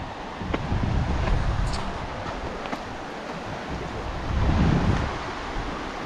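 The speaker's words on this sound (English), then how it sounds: "What a beautiful river." A river in Montana rushes on with a broad, steady roar that swells and eases twice. There are no voices.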